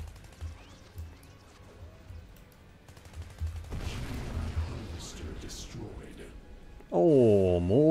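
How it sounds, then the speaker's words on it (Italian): Enemy gunfire in the online shooter game Renegade X rattles in the background with scattered impacts and blasts, a steady mid-level din that ends in a loud, warbling burst. "Ehi, quello là mi sta sparando."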